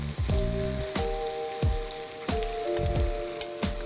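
Capsicum frying in a pan for Punjabi sabji, a steady close sizzle broken by several sharp clanks of a spoon against the pan, with no talking.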